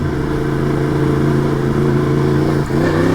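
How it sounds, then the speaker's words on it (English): A Yamaha FZ-10 motorcycle engine drones loud and close under a held throttle, dipping briefly near the end before surging back up. "It's me hitting this throttle when I hit bumps."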